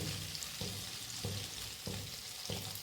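Garlic, ginger and green chilli frying in a pan for sweet corn soup, a steady close sizzle with soft stirring scrapes recurring about every half second.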